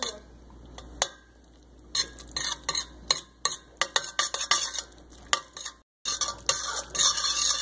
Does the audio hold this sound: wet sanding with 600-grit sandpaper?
no